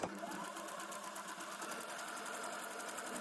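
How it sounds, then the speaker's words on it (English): A sewing machine on a small running stitch pushes through a sheet of acetate, its needle chattering in a fast, steady rhythm that runs loud and close for the whole stretch. "I have no idea if my sewing foot is going to grab this acetate"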